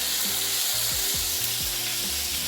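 Garlic paste frying in hot oil in a Bengali home kitchen, a steady loud sizzle throughout with no talking.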